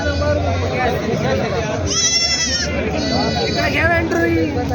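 Lambs bleat in short, high, quavering calls amid a busy crowd murmur at a goat and sheep market in Parbhani, Maharashtra, with one loud bleat near the middle and fainter ones following.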